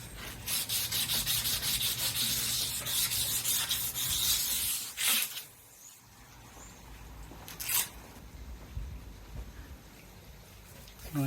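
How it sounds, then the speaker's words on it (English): Steel camper van wheels are rubbed down by hand before spray painting, producing a steady abrasive scraping that pauses briefly midway, then resumes in quieter strokes with a couple of sharp scuffs. "All this rubbing down is what makes the wheels look really good when they're painted black"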